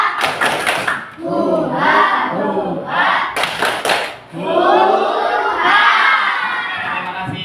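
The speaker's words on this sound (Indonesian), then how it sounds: "Kita tepuk yang paling semangat." A group of students in a classroom performs the tepuk rimba clapping chant, loud sharp bursts of rhythmic claps and thumps alternating with energetic shouted chanting in unison.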